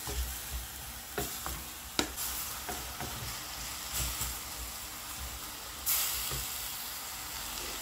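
Minced meat sizzling steadily in a pan over high heat, a continuous close hiss broken by a few soft stirring knocks, with no talking.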